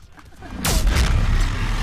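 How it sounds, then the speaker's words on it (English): An explosion in the Mass Effect 3 video game bursts in suddenly after a quieter lead-in, a loud, broad boom with a rushing tail that keeps rumbling to the end. "Whoa, that explosion though."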